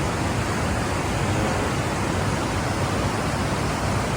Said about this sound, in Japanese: ってこっちが滝。